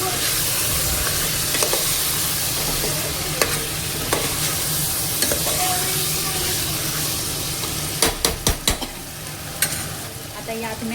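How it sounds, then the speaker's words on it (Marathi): Spoon stirring yogurt into vegetables in a pressure cooker pan for veg pulao, a steady sizzle with scraping strokes and a quick cluster of sharp clinks near the end. "दही ॲड करून मिक्स करायचं पुन्हा एकदा"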